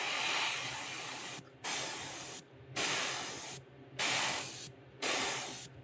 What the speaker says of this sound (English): we're going to do that just by spraying it from the front of the bait and letting all the overspray drift back